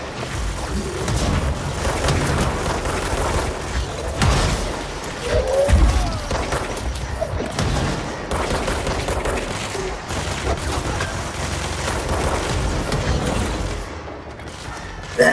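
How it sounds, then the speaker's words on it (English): Explosions and gunfire rattle through a combat sequence in the video game Control, with dense bursts of shots and booming blasts layered continuously over a busy, loud soundscape. "Damn, these explosions."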